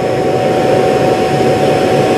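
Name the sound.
robot vacuum base station emptying the robot's dustbin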